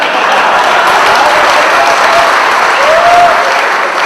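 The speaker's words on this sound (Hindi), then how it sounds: "तालियां इसलिए भी बजाते रहिएगा" Loud, dense audience applause at a Hindi kavi sammelan poetry gathering, continuous clapping from a large crowd sustained for several seconds, close and even, with no speech.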